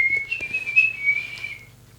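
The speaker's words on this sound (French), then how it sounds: "c'est juste quelqu'un qui siffle parce qu'il est très heureux" A person whistles one sustained, wavering high tone for about a second and a half, close and fairly loud, with faint clicks underneath.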